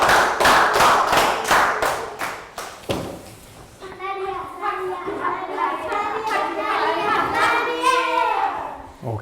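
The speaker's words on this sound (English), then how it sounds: "Round of applause for Down." A class of Year 3 children claps for a classmate, loud, quick, even handclaps for about three seconds, then fading into a noisy mix of children's voices and chatter.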